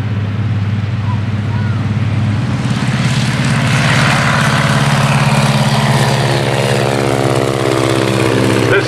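A Boeing Stearman Model 75 biplane's radial engine runs loud and steady at an outdoor airshow at Rhinebeck Aerodrome, its rough throbbing drone building slightly as it powers up, with a commentator talking over it.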